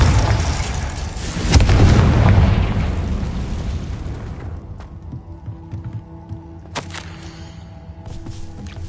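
The Confringo fire spell detonates in Hogwarts Legacy as a loud, broad blast that rolls and decays over several seconds, followed by sharper game impacts and effects.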